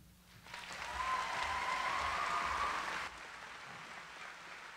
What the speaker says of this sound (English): Can we get another round of applause, please